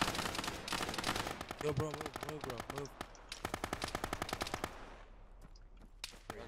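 Rapid automatic gunfire crackles in Arma 3 during a cops-versus-rebels clash, with long bursts of sharp repeated shots and short pauses, while voices talk over the shooting.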